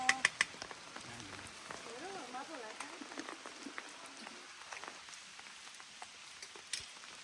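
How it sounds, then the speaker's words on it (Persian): Heavy rain pattering steadily on a tent or tarp at a forest campsite, a dense hiss with scattered drip taps, while people talk nearby over it. "خیس شدیم دیگه، خودمون خواستیم بمونیم تو بارون."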